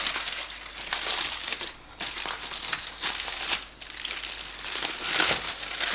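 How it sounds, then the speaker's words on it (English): Smoked pulled pork from a Fornetto bullet smoker is unwrapped up close: a steady, busy crinkling and crumpling of wrapping with brief pauses, fairly loud and without talk. "this is the moment of truth. Time to unwrap"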